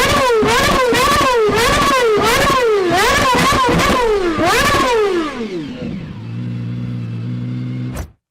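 The GMA T.50's Cosworth V12 screams through repeated rapid revs from idle to the red line, each a rising shriek falling back, then settles into a rumbling idle before cutting off abruptly; loud, close and alone.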